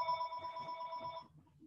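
A telephone bell rings during a mathematics lecture, a steady electronic trill of bright tones that cuts off after about a second, leaving faint room noise.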